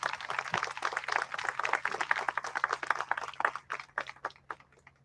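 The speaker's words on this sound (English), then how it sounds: "Let's give them all a big round of applause." An audience at a naturalization ceremony claps together in a burst of applause that fills most of the clip and thins out toward the end, heard from within the room at moderate volume.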